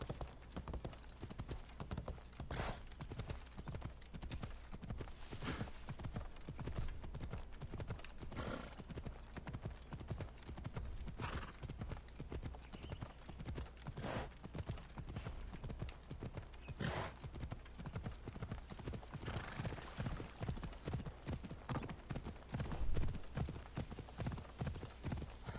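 Hooves of a mount in the video game Assassin's Creed Odyssey clop in a steady, continuous gait, joined by an occasional neigh over constant in-game background sound.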